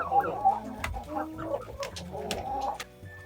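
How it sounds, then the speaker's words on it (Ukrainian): Hens clucking and squabbling as a mixed flock meets and sorts out its pecking order in a winter poultry yard, a busy, overlapping stream of close clucks and short squawks with no talking. "Зараз шум гам, перепрошую, тому що кури в нас знайомляться одна з одною і показують, хто є хто."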